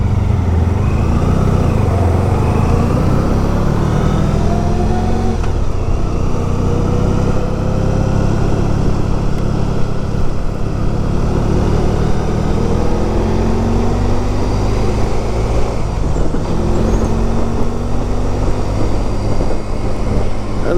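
A classic motorcycle is ridden for a long stretch, its engine droning loud and close and rising and falling in pitch as it accelerates and shifts, with constant wind and road roar and no voices.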